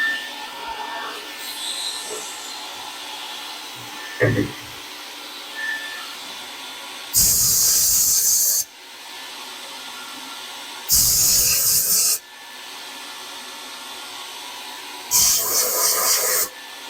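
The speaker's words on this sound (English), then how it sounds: "I'm just going to shove the front end of it into my blast cabinet and try to direct all the blast media in towards the cabinet" A blast cabinet sprays abrasive media onto a small boot lid bracket from an MGA, three loud, hissing bursts of a second or two each, separated by quieter gaps with faint handling noises.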